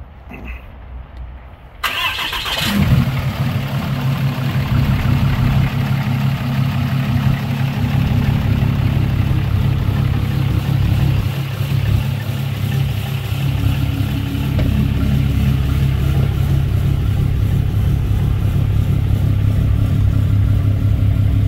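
Vehicle engine cranking briefly and firing up, then settling into a loud steady idle with low rumble, holding close and continuous with slight rises in revs.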